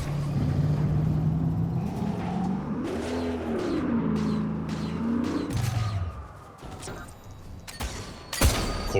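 A video game car revs up, its engine whine climbing and sagging as it drives, then fades into scattered clanks and a sharp burst near the end.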